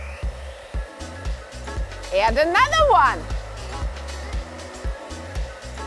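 A hairdryer blows a steady stream of air with ping-pong balls bobbing and dancing in the airflow, a rising whirring surge midway, with a person talking over it.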